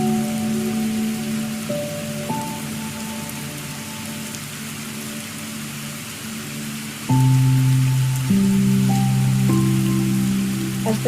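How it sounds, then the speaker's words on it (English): Steady rain falls on a rainy day, a soft continuous patter heard alongside sustained, gently shifting musical tones that swell louder near the end. "As the rain begins to fade"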